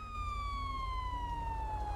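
A steady police siren wail in a video game rises and falls, fairly close and loud, over a low rumbling engine background.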